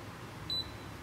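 The Cata IT 773 induction cooktop gives one short, clear electronic beep as it powers on, heard over a low steady hum with no talking.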